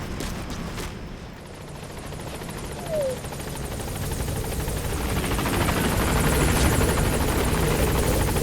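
Support helicopter arriving at a landing zone in Metal Gear Solid V, a heavy rotor thump and whine growing steadily louder as it approaches, with faint gunfire bursts early on.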